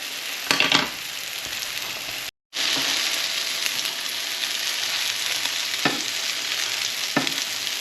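Meatballs sear in a hot frying pan with a steady bright sizzle, broken by a few sharper crackles as they are turned and a brief gap of silence partway through.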